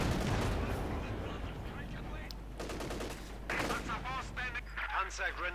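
Rapid gunfire and machine-gun bursts in the Company of Heroes 2 strategy game, Soviet fire hammering a German Panzer caught in the open, with dense overlapping shots over a steady battle din and a commentator talking throughout.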